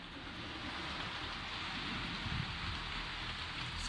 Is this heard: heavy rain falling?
yes